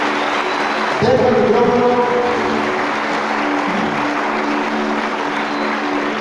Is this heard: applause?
yes